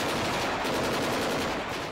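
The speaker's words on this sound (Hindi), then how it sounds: "एक टैंक पर लगाई गई मशीन गन से ताबड़तोड़ गोलियां बरसाई गईं।" Machine gun fire from a gun mounted on a tank, a rapid continuous burst of shots at an even rhythm, loud and sustained for about two seconds with no voices.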